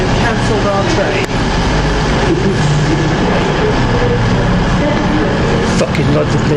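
A train runs on rails with a steady loud rumble and some faint clicks, and people talk over it at a busy station.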